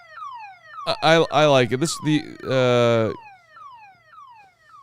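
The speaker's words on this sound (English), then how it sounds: "the extended siren because we didn't get it originally" Siren sound effect played on a live sports talk stream, repeated rising wails that sweep upward over and over, briefly interrupted by someone speaking before the wailing resumes.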